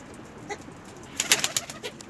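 Pigeons coo softly nearby at their coop, a few short throaty calls clustered together, with faint outdoor background.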